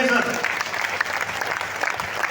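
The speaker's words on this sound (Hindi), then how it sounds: "एक बार दोनों हाथ ऊपर करके ताली बजाइए" An audience at a motivational talk breaks into applause, a busy patter of many hands clapping together, with a voice briefly audible underneath.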